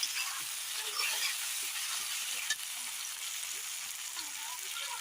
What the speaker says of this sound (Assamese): এইখিনি ভালকৈ ভাজি লোৱা হৈছে।